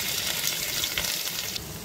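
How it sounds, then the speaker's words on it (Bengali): Ginger sizzling and frying in very hot oil along with bay leaves, dried red chillies and cumin seeds, a steady close crackling hiss with faint stirring, no voices. "আদা দিয়ে 30 সেকেন্ডের মতো ভেজে নেব"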